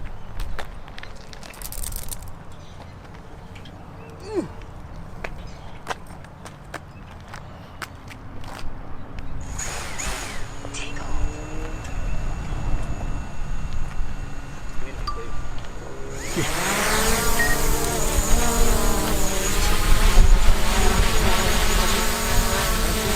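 A DJI Mavic drone flies outdoors in wind, trying to lift an FPV quadcopter. A thin insect-like buzz of rotors rises and grows louder and rougher toward the end, with people talking throughout.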